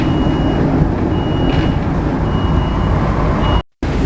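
Steady background of a large bus engine idling nearby, with faint regular reversing beeps repeating on one pitch before a sudden short dropout near the end.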